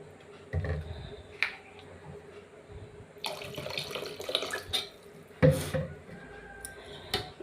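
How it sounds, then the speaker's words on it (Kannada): Water is poured into a pot of radish sambar, a soft running trickle and splash broken by a few sharper knocks and clatters of the vessel. "ಇನ್ನೊಂದು ಸ್ವಲ್ಪ ನೀರು ಹಾಕ್ತಾಯಿದ್ದೀನಿ"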